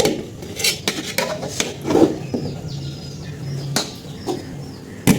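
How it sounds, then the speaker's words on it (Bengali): Pots and utensils clink and scrape in a home kitchen as biryani cooks, with scattered close metallic knocks and faint bird chirps in the background. "এই তো আমার বোন বিরিয়ানি রান্না করছে আমাদের জন্য"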